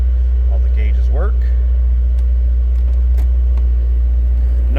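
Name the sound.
1998 Chevrolet Corvette 350 V8 engine rumbling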